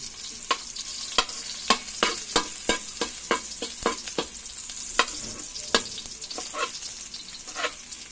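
Garlic frying in a pan for coconut-milk mussels, a close sizzling hiss punctuated by a dozen or so sharp, irregular pops and spatters as it cooks.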